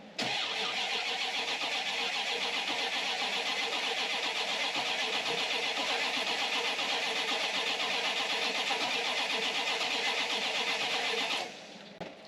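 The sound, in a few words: classic car engine cranking via remote starter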